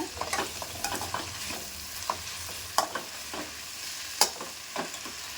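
Vegetable fried rice stirred in a hot pan, with irregular scraping and tossing strokes of a spatula over a light, steady sizzle, close and moderately quiet, with no voices.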